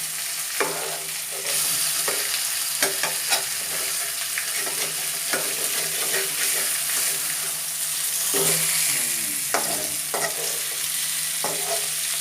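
Chicken tandoori pieces fry steadily in a pan, a continuous close sizzle broken by several sharp scrapes and clatters as the pieces are stirred and flipped, with no talking.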